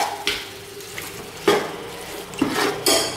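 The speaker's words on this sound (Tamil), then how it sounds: "அது வரைக்கும் நல்லா வதக்கணும்." Onions, tomatoes and green chillies sautéing in a pan for chicken biryani, with a soft sizzle under intermittent scrapes and clacks of a spoon stirring against the pan, close and fairly quiet.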